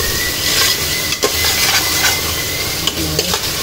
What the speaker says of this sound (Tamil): 2 ஸ்பூன் இஞ்சி பூண்டு பேஸ்ட்டு சேர்த்துக்கணும். சேர்த்து நல்லா இதையும் இந்த பச்சை வாசனை போகிறதுக்கு கிண்டி விட்டுக்குவேன்.